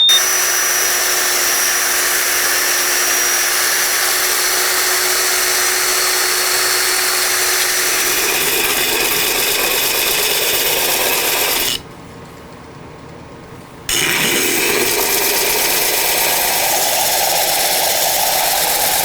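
A wood lathe turns wood with a continuous loud whir and scraping, stopping abruptly for about two seconds before resuming.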